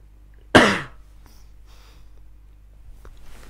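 A single sharp cough bursts out close to the mic, followed by quiet room noise and faint breathing.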